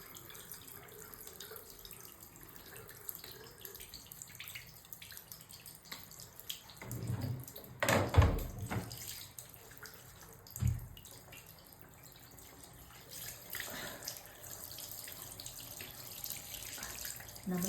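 Cold water running from a tap while a face is washed: steady faucet flow with a louder burst of splashing partway through and another brief splash soon after, close by, with no talking.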